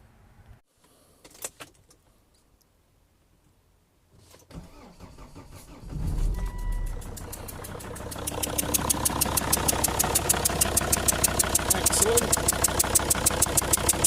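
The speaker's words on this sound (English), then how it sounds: "So so I'm going to start the engine. It's going to run terribly." A common rail diesel engine with a seized, leaking injector cranks and catches, then runs roughly with a loud, steady rhythmic knocking and clatter close by.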